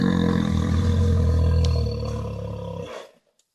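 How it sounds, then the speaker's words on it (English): Played-back recording of a bear growling, tested as a deterrent: a loud, deep, rumbling roar held for about three seconds before cutting off abruptly, close and alone. "They played a recording of a bear growling."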